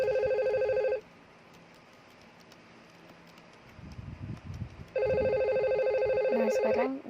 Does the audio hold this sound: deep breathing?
no